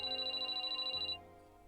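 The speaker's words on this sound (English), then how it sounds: "My phone." A phone ringtone in the visual novel game Sweet Fuse chirps in a steady, rapid electronic trill, then cuts off abruptly, leaving a low hum; no voices.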